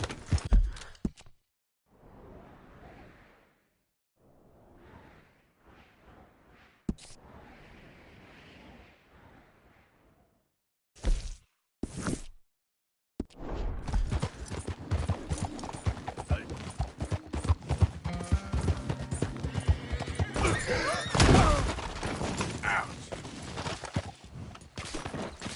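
Galloping horse hooves in Red Dead Redemption 2, a dense, steady clip-clop rhythm up close for the latter half after scattered quieter moments, with a brief neigh-like burst mixed in.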